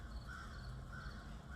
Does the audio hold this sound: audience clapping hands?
no